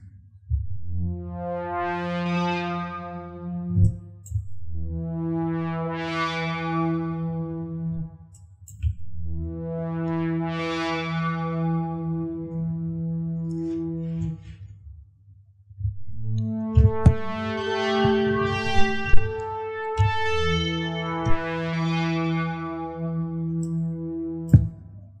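A modular synth patch built around twisted envelopes gives six sustained, harmonically rich tones, each swelling and then decaying slowly, with no talk over them.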